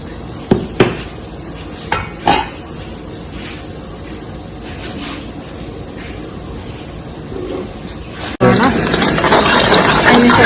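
Mustard seeds drop into hot coconut oil, and near the end a loud, dense sizzle bursts in after a few earlier clinks and taps of utensils against the pan.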